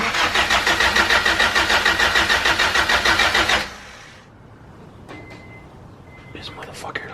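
A turbo Honda CR-V engine cranking, a loud rhythmic starter churn lasting several seconds that cuts off without catching, then a quiet pause with faint clicks.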